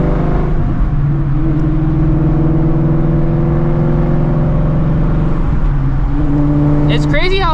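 Supercharged New Edge Mustang GT with long-tube headers, heard from inside at a steady drone, a loud continuous engine hum with a slight pitch swell midway, and a voice briefly at the end.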